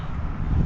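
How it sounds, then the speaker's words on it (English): Low rumbling wind buffeting the microphone, a brief steady gust close up with no other sounds. "it's nice and windy today"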